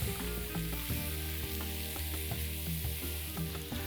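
Mushrooms spread across the surface of a pan or wok sizzle steadily with a dense, even hiss and light occasional stirring, close and continuous without speech.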